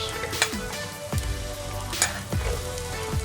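Onions frying in a pan after garlic has been toasted, a crackling, bubbling sizzle up close with several distinct scrapes and knocks of a utensil at irregular intervals.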